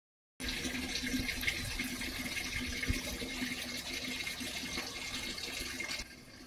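Cold fresh mountain stream water flowing steadily near the microphone in a Kumaon valley between Kausani and Someshwar, a continuous bright rush with no voices, ending in a quieter tail.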